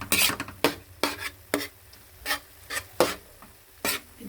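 Ground pork and tomato paste being stirred in a hot pan, with repeated short scraping strokes of a spatula over a soft sizzle, close and clear with no talking.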